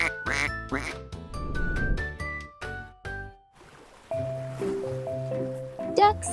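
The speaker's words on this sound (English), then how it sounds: "Duck." A cartoon duck quacks in a children's farm-animal program, with several bright quacks over playful music and chimes, loud and close.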